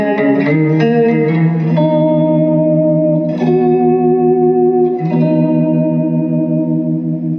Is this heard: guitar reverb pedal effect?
yes